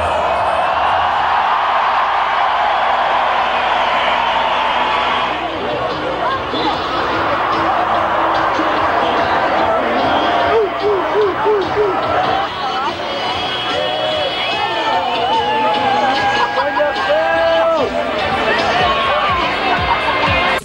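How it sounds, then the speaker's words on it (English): Large stadium crowd at a 1986 concert at Ibrox Stadium, Glasgow, roaring and cheering continuously between bands, a dense sustained wash of voices with rising shouts and whoops throughout. "it draws tremendous response from the crowd"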